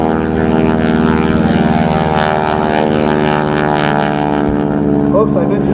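A propeller airplane flies at the 2012 MCAS Cherry Point military airshow while climbing to altitude trailing smoke, its engine a loud, steady droning roar throughout, with an announcer talking over it.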